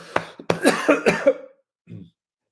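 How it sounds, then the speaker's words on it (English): A person coughs in a quick cluster of harsh bursts, then pauses and gives one softer cough after a moment of silence. "I can't even talk because I'm coughing"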